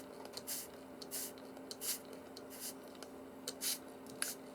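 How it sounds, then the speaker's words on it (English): A spray bottle puffs water into a paint palette in quick, quiet bursts, some in close pairs, spaced irregularly over a faint steady background hum. "So I'm just using water out of my spray bottle."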